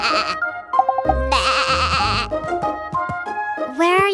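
Cartoon sheep with a very long coat bleats several times in a row, loud and close, amid bright animated sound effects and musical tones.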